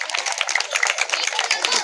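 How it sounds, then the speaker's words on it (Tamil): An audience claps in encouragement for a drama troupe after a stage play, a dense patter of many hands that stays steady for the whole stretch. "கை தட்டி உற்சாகப்படுத்தலாமே"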